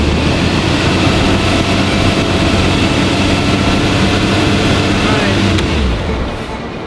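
A loud, continuous Porsche engine roar drones on steadily, close by and rumbling, then eases off slightly near the end.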